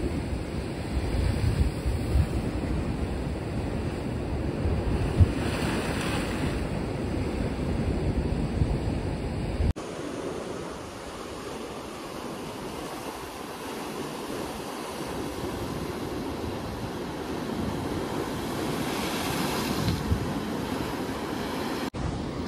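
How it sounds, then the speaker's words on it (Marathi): Strong ocean waves surge and crash against a rocky shore, a heavy continuous roar of churning water and spray close by, rising and falling in broad swells, with wind noise and no talking. "आता ही लाट जी येते ना ती असली जोरात लाट येणार आहे ना."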